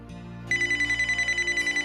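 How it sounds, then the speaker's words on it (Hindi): A mobile phone left lying in a room starts ringing about halfway through, its electronic ringtone pulsing in a steady fast rhythm, close and clear over a quiet background with no talk. "फोन यहीं बज रहा है इसका।"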